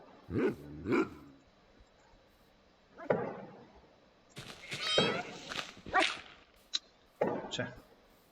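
Several dogs bark and yelp in scattered bursts in Minecraft, some sharp and close, others quieter, with pauses between the outbursts.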